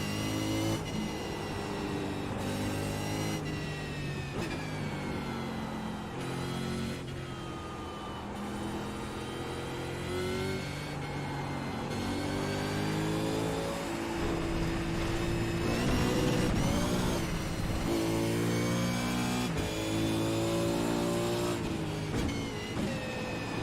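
A V8 race car engine at Barber circuit in a racing game rises and falls through gear changes, with automatic throttle blips on downshifts, loud and continuous for the whole stretch with no talking.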